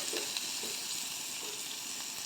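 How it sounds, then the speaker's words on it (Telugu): Chopped onion and cumin seeds fry in ghee in a pan, making a quiet, steady hiss with a couple of faint stirring scrapes over a short stretch, with no voices. "ఫస్ట్ నెయ్యి వేసుకున్నాను, అందులో కొద్దిగా జీలకర్ర వేసుకున్నాను."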